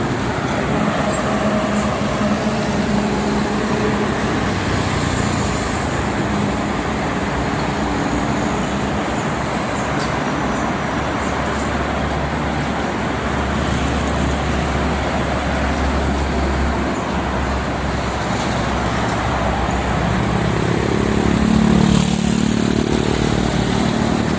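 Heavy weekend traffic on the Cikampek toll road, mostly freight trucks, forms a steady, dense roar of passing engines and tyres that swells slightly near the end, with no speech.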